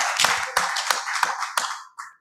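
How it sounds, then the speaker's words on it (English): An audience at a forum on implementing SAGE social protection claps for a former parliamentarian, a short close burst of several hands with a few accented claps, fading out after two seconds. "Let us clap for her."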